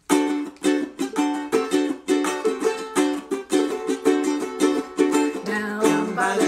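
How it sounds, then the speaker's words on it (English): Ukulele medley from an open mic: steady strummed chords with a bouncy rhythm and bright plucked tone, loud and close with no voices over it. "a ukulele medley would come up that sounds like this."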